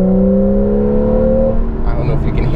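A Porsche 911 GTS with a PDK gearbox accelerates hard, its engine giving a loud, close, steady droning tone that shifts in pitch as the throttle is held open.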